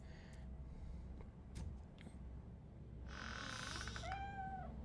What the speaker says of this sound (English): I'm gonna guess that's the kitty cat